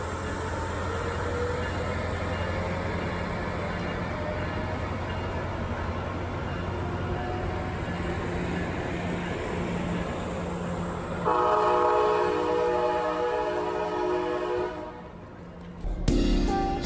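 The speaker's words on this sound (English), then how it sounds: "So this is actually us riding the Surfliner." Aboard an Amtrak Surfliner train, a continuous rumble of the moving railcar fills the clip, with a sustained horn blast joining partway through before a sharp clatter at the end.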